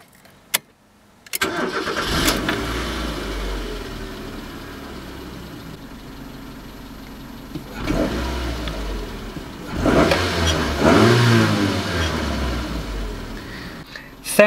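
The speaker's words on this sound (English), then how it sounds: "I will start the engine to give you a bit of a taste of how it sounds like." A Mazda 323F (BA) engine cranks and catches, then idles with a steady rumble before being revved up a couple of times, close by.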